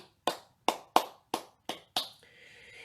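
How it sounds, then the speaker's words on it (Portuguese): Six sharp, separate hand claps at a steady, deliberate pace, close and clear in a quiet room, with a faint tone ringing after the last clap. "existe uma palma alegre, né, que eles batem"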